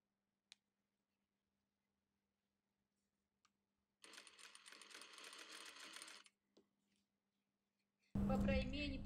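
A sewing machine stitches lace net around the armhole of a girl's dress in one short burst of about two seconds, between faint clicks, before a voice starts speaking.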